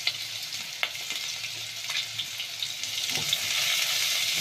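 Chopped onion sizzles and fries in oil in a pan on a gas stove, a steady crackling hiss that builds slightly, close by, with a few soft stirring clicks and no voices.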